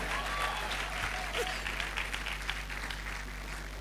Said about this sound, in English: Keep clapping, don't stop. Clap for our dear Registrar.